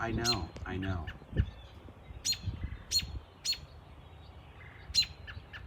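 Birds chirp near window boxes lined with cocoa fiber, giving a series of short, high tweets at irregular intervals, fairly close. A voice talks briefly at the start.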